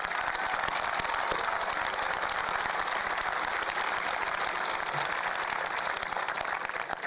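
A graduation audience at the 2018 Piqua High School ceremony applauds its graduates, a loud, continuous roar of many hands clapping that holds steady throughout without talk.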